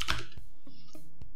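A handful of keystrokes on a computer keyboard as a terminal command is typed, four or five separate clicks spaced irregularly, close and fairly quiet, with no talking.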